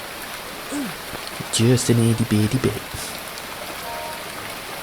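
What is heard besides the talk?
rain in a video game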